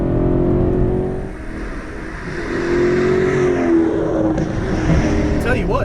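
An Alfa Romeo 8C Competizione engine revs and growls steadily, its pitch climbing and falling as it accelerates, loud and close throughout.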